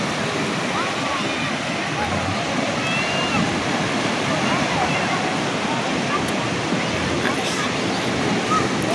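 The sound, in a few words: strong ocean waves at low tide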